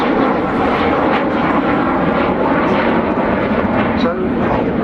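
An Avro Vulcan bomber flies past at the Farnborough Airshow with a heavy, continuous jet roar that fills the air, while a commentator talks over it.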